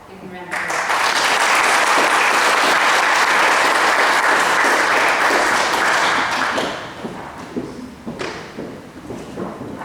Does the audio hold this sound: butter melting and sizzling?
no